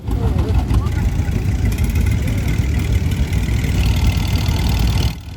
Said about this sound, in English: You see this John Deere tractor attempting to leave on numerous occasions.